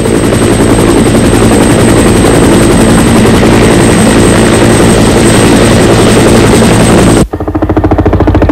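A military helicopter flies close overhead, its loud rotor throbbing beneath a high turbine whine, then it cuts off abruptly near the end and leaves a fainter rhythmic chop.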